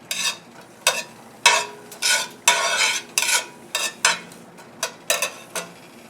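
Spaghetti sauce cooking in a pan, with repeated bursts of stirring and sizzling in an irregular rhythm of about a dozen strokes, close and fairly loud against quiet gaps.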